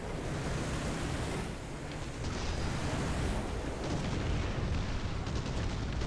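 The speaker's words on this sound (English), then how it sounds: "Oh my gosh, the artillery barrage." A War Thunder tank battle erupts with an artillery barrage, a dense, continuous roar of overlapping blasts and rumble that fills the scene from start to finish, loud and unbroken.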